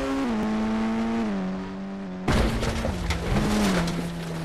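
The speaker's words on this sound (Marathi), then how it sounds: "फुल पलटी आलती गाडी झाली." Car crashing and flipping over in a mega ramp bike video game: a steady engine hum drops in pitch, then a sudden loud burst of crunching, rattling impact noise follows under continuing engine tone.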